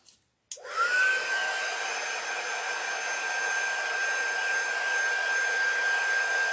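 A hair dryer drying paint on a peppermint gingerbread boy decoration: a click, then a steady whooshing blower with a constant high whine, running close and unbroken for several seconds.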